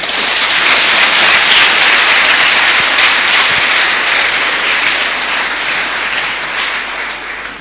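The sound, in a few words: applause during thanksgiving mass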